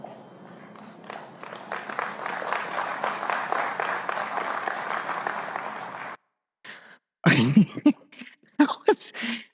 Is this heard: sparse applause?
yes